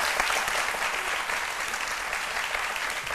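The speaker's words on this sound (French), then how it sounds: "On peut l'applaudir." A studio audience at a French-language midday TV talk show applauds a guest, a brief, even burst of dense clapping lasting about three seconds.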